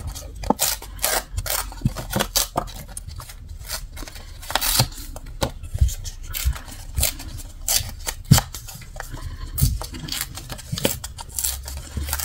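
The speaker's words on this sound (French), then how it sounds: "Vous voyez, je déchire" Scrap paper being torn by hand for a scrapbooking art collage, with repeated close rips and crinkly rustles in an uneven rhythm and no talking.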